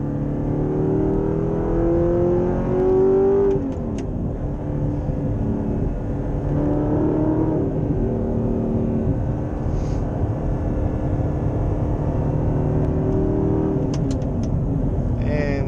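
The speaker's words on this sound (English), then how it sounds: "I'm gonna get on a little bit over here if I have room, just so you can hear the exhaust" A 2012 Audi R8 V8 manual drones and revs up, its exhaust note rising through the gears, then settles into a steady cruising roar with highway road noise.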